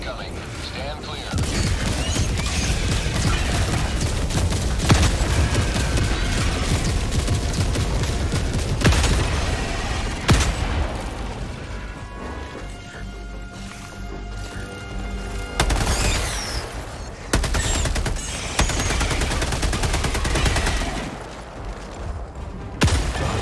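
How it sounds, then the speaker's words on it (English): Orbital barrage strikes in Helldivers II land as a long run of heavy booming explosions, with rapid gunfire layered throughout. The rumbling blasts keep coming for over twenty seconds while players talk excitedly. "Orbital barrage incoming. Stand clear."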